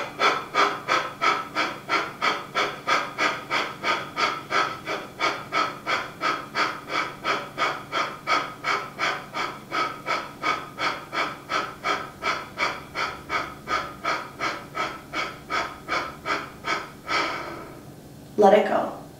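Steady rhythmic breathing through a core exercise, heard as about forty even breath pulses that form a regular pattern, close and clear. The breathing stops near the end and a short louder sound follows.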